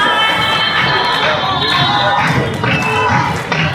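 A packed standing-room crowd roars steadily at a Southern Heavyweight Championship wrestling match in the Pro Wrestling 225 video game, a dense, continuous wash of cheering with faint thuds beneath it and no letup.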